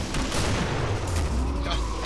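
Rapid bursts of video game gunfire crackle and boom continuously, dense and loud, with a voice talking over the shooting.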